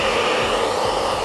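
A hair dryer blows steadily at close range while drying curly hair, a loud continuous whooshing roar with no pauses.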